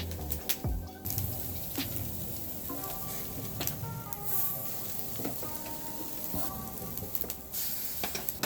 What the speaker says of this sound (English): Wonderful smell of herbs and meat cooking on a Mangal.